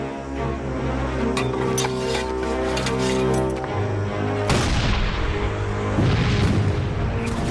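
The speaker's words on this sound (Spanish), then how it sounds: "Este cañón dispara proyectiles que explotan al impactar y obuses con metralla que revientan en el aire sobre la cabeza de los enemigos" Reconstructed Civil War cannon fire at the Battle of Gettysburg, a field gun launching an exploding shell: booming blasts thump out amid layered battle music, with a heavy, close detonation midway followed by rumbling aftershocks.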